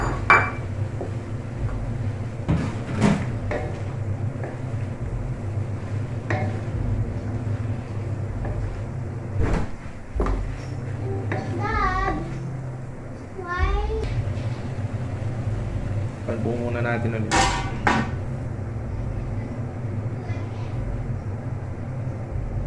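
String beans go into a cooking pot while pans and utensils clatter in a kitchen, with scattered metallic clinks and knocks over steady background hum and some faint chirping sounds.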